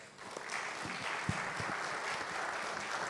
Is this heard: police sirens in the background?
no